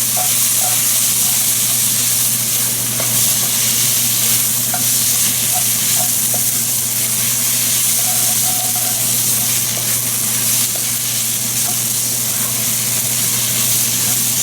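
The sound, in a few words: tomato paste frying and being stirred in a pot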